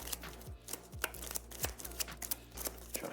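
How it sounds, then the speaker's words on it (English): A deck of cards for a solo tabletop dungeon game is shuffled by hand, a quiet run of quick riffling bursts and soft slaps repeating about every half second, close up and alone. "Try to shuffle the best of my ability."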